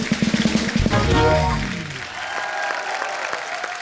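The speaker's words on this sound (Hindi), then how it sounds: "तो एक बार कंगना के लिए जोरदार तालियां।" A studio audience breaks into applause for Kangana Ranaut at The Kapil Sharma Show, with a brief musical sting and voices sounding over the start before the dense clapping carries on steadily.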